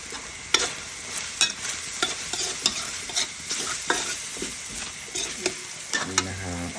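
Eel curry stir-fried with fingerroot and kaffir lime leaves in a hot pan, rhythmic spatula scrapes and tosses over a constant sizzle, close and fairly loud, with music entering at the end.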